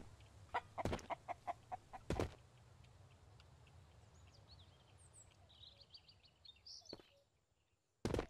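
Chickens in the survival game Mist Survival cluck in a quick rhythmic series near the start, followed by quieter bird chirps and a few sharp knocks over low outdoor ambience.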